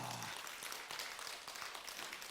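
Church congregation applauding at an evangelistic revival service, a dense steady wash of clapping throughout the short stretch with a low voice briefly at the start.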